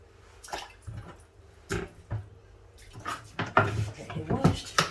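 Fish being washed by hand in a basin of water while preparing a healthy soup, with intermittent splashing and sloshing bursts that grow busier toward the end, a voice speaking faintly alongside.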